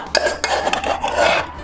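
Eggs, sugar and melted butter being mixed into cake batter in a bowl, a steady scrape and clink of utensil against the dish with a continuous stirring rustle, close and fairly loud, no voices.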